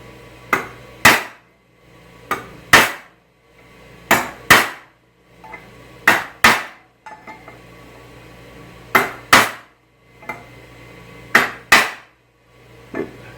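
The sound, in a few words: hammering a chisel into metal bracket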